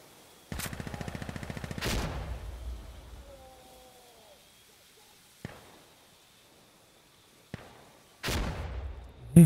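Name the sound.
gunfire in the video game Insurgency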